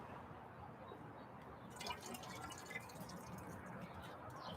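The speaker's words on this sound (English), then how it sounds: "So I'm going to pour that in here." Hydrogen peroxide being poured from a graduated cylinder into a container, a quiet trickling and splashing pour that starts about two seconds in and continues faintly to the end.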